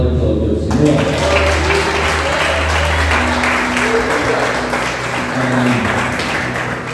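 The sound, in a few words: congregation applauding in church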